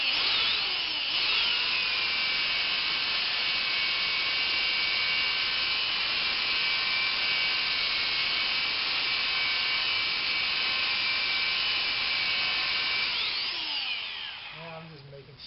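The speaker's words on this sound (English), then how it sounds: "He's trying to sand this bottle." A power tool whirs steadily while sanding a glass bottle, a loud continuous high-pitched drone that runs for most of the stretch before winding down at the end.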